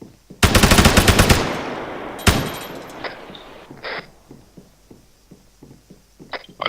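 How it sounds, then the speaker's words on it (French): Airsoft guns fire during an evening skirmish game. One loud, rapid burst is followed by a second short burst, then scattered quieter shots and clacks further off, with no talking. "Il y en a encore un qui tire là."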